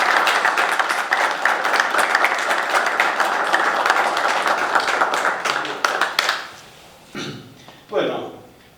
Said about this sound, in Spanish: Le podemos dar un aplauso